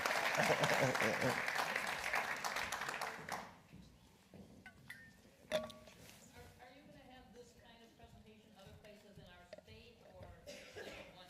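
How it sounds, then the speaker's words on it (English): A round of applause from the audience at an evening event about the Wisconsin Supreme Court election, a soft, dense patter of clapping for a few seconds that fades as a speaker's voice takes over. "A big round of applause for Chris Casper over there."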